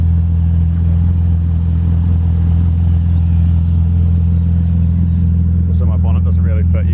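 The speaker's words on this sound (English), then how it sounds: "Sounds a bit filthy because I only have half an exhaust" BMW E36 with a swapped M54 engine running on only half an exhaust, a loud, steady low rumbling idle with a raspy edge; a voice starts talking over it near the end.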